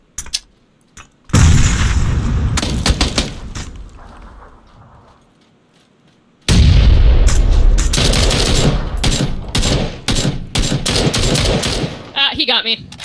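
Mini-14 rifle fire in PlayerUnknown's Battlegrounds: loud, close rapid shots crack in dense clusters, with a short quiet gap midway before a long barrage of repeated gunshots resumes.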